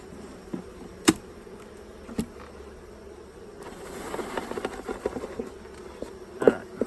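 Honey bees swarm around an open beehive during an inspection, giving a continuous close buzz with a few sharp knocks and taps from handling the frames.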